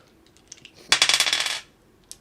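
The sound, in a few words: dice being rolled for damage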